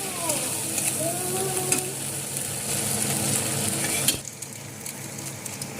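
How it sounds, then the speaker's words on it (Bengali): Ginger paste, melon seed paste and cashews sautéing in a pan for a Bengali soybean curry, a steady close sizzle with scraping stirs that drops off sharply near the end. "আদা বাটা আর মগজ বাটাকে ভালো করে একটু কষাবো।"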